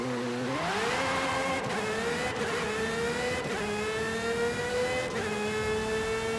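Aston Martin Valkyrie AMR Pro launching in the Forza Horizon racing game: a loud, steadily climbing engine whine that rises through several quick gear shifts, playing alone for about six seconds.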